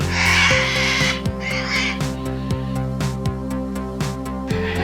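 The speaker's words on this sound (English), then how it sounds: "Oh, these birds are not okay." Birds squabble and call in a garden: harsh, crow-like caws and cries repeat close by in uneven bursts, loud and alone without talk.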